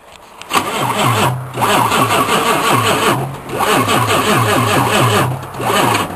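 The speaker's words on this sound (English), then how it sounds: "With a good roar when it starts up. Crank her up." A one-ton dually truck engine cranks over and over in loud, rhythmic bursts with short pauses between attempts, with an uneven starter churn close by.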